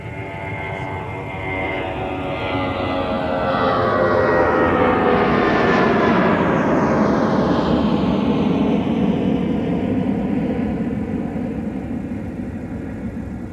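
A jet airliner takes off at Minneapolis–St. Paul airport, its engine roar building steadily into a loud, sustained rush with a rising then falling whine as it passes close by, then holding a broad drone.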